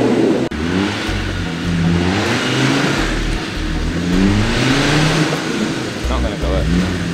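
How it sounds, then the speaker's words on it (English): An off-road 4x4 engine, one of the Land Rover, Toyota, Jeep or Mitsubishi trucks on a pay-and-play course in the North Wales woods, revs and strains loudly and close by, rising and falling in several surges, with voices talking over it. "I hear like screaming engine in the forest,"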